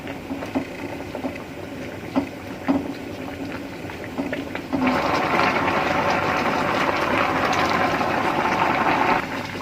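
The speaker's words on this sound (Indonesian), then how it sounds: "di sini saya sudah menyiapkan air yang sudah mendidih untuk merebus pokcoynya" A pot of water at a rolling boil while pak choi cooks, with continuous bubbling and rattling that grows noticeably louder and denser halfway through.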